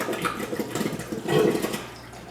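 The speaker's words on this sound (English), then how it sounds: "And once that siphon is broken," Aquarium overflow siphon breaking and draining, a gurgling, sucking rush of water through the pipe that surges louder midway, then eases off as it empties.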